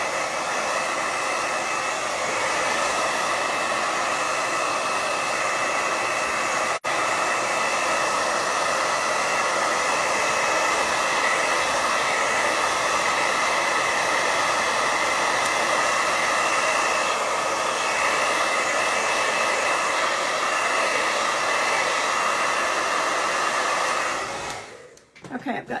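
A hair dryer blows steadily and loudly while drying paint on a rustic sled, a continuous close whoosh that runs unbroken for most of the clip and cuts off near the end.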